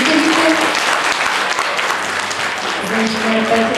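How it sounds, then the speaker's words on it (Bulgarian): Audience applause for the winners at a children's Christmas celebration in Vratsa, a steady, dense wash of clapping that fills the whole stretch at close range, with faint voices mixed in beneath it. "Аплодисменти още веднъж за победителите."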